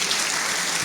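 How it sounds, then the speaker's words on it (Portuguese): Brief burst of audience applause at a technology conference session in Brazil, a steady dense wash of many hands clapping at moderate volume with no voices on top. "recebam também uma bela salva de palmas de todos"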